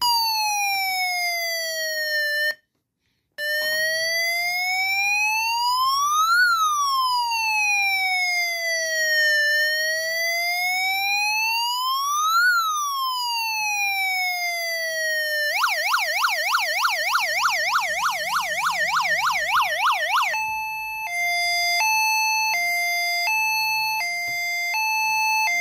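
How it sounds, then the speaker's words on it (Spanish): Electronic siren tones from an ESP32 microcontroller cycle through several patterns: slow rising-and-falling wails, a rapid warble, then a two-tone alternating beep, loud and synthetic. "podemos probar el SP32 y los tonos básicos de sirena"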